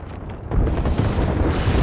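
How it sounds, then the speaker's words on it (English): A grenade explodes in Apex Legends, a brief muffled boom with a dull rumbling burst that swells and lingers for about a second. "Grenade"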